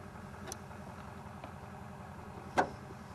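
A diesel pickup truck engine idles quietly in the background with a steady low hum, broken by a few faint clicks and one sharper knock.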